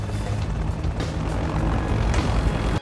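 A helicopter in a film scene drones with a steady, loud rotor thrum that holds unbroken from start to finish.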